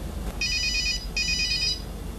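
Ringback tone of an outgoing phone call: two clear electronic ring bursts, each about half a second long with a short gap between them, heard over a low background hum.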